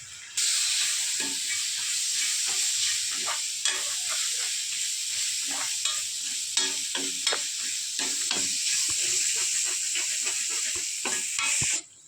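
Onion and spices sizzle and crackle steadily in a hot pan for lemon fish fry, with a constant frying hiss and occasional stirring scrapes, close up.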